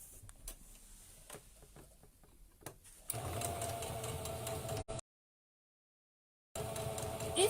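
A sewing machine stitches a seam on a fabric wet wipe cover, starting after a few faint ticks and clicks, then running as a steady, close mechanical whir before cutting off briefly and resuming.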